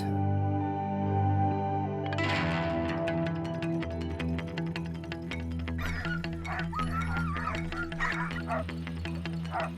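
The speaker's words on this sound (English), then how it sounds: "The dogs are even more excited now" Excited sled dogs bark and yip in a rapid, overlapping chorus, loud and nearby. Sustained music-like tones and effects run underneath, and the barking grows denser and more frantic partway through.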